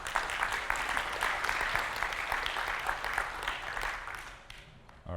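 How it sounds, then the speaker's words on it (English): A conference audience claps to welcome a developer advocate to the stage, a fairly distant, steady round of applause that thins and fades out near the end. "give a round of applause for Nico."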